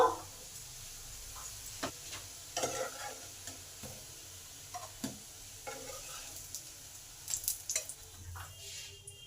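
Egg and onion pakoras fry quietly in oil, a soft sizzle broken by scattered scrapes and taps as they are turned.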